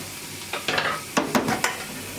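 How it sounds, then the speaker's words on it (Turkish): Onion and tomato paste being sautéed in a pot, a close sizzling hiss punctuated by several quick scraping stirs, with no one speaking. "Salça içerisinde dağılana kadar kavuracağım."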